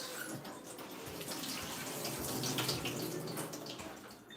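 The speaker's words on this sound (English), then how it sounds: "Just a quick rinse." Harvested aeroponic garden vegetables being rinsed under a running tap, a soft continuous splashing water stream with faint rustling, fairly quiet and with no voices.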